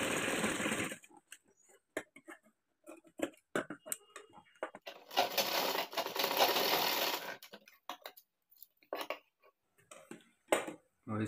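A sewing machine stitches a folded kurti collar in short bursts of rapid whirring, stopping and starting between pauses as someone talks over and between the runs.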